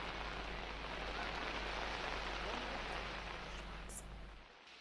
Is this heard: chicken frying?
no